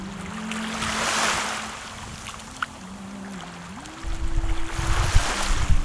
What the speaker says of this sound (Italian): E sentite le onde dell'acqua